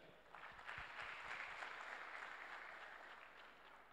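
A crowd claps steadily in sustained applause at a university event, heard from some distance throughout.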